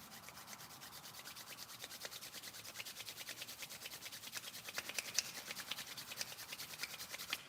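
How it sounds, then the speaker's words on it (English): Palms rub together during a guided meditation, a soft, steady, rhythmic brushing of skin on skin heard close and quiet for several seconds with no talking. "rubbing the palms together"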